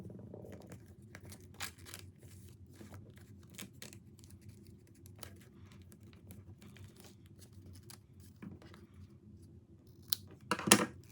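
Scissors snipping paper to make a school organizer file, a run of sharp, quiet cuts at an uneven pace, close by, with soft paper rustling and a louder cluster of snips at the end.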